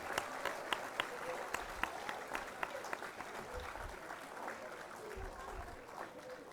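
Applause at a commencement ceremony, a soft, distant crowd clapping with a few sharper individual claps standing out and low rumbling handling noise underneath.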